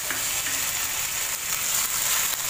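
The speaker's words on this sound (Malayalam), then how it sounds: "ഈ പഴം നന്നായിട്ടൊന്ന് വഴറ്റിയെടുക്കാം" Chopped banana sautéing in a pan with fried coconut pieces gives a steady, close sizzle of frying, with faint stirring scrapes now and then and no talk.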